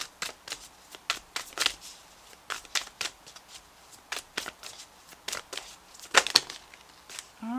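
A deck of guidance cards being shuffled for a reading, a long run of soft riffling bursts in irregular rhythm, close and moderately quiet with no talking.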